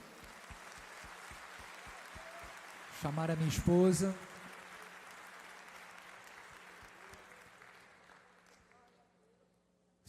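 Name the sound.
church congregation applauding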